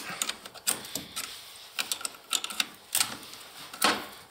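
Two screws come out of the battery terminal plate on a Renault Clio 3, with a quick run of close, crisp ratcheting clicks in uneven bursts and no talking.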